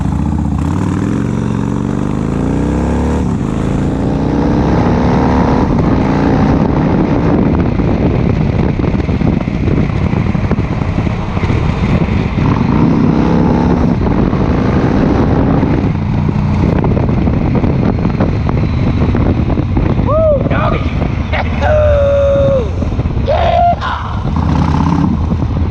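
A 2004 Yamaha XV1700 Road Star Midnight Edition cruiser motorcycle accelerating hard in a 0-60 run, its engine roaring steadily and loudly through rising gears, with heavy wind buffeting the microphone throughout.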